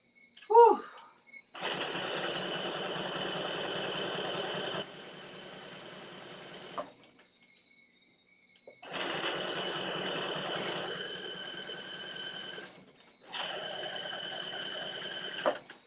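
A sewing machine stitches a dress seam in three separate runs, each a steady close whir, the first slowing partway before stopping, with a brief voice at the start and quiet gaps between bursts.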